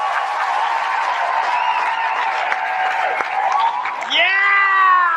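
A studio crowd on a radio talk show cheers and applauds continuously at a steady, loud level, with a brief whoop and a rising whistle-like cry near the end.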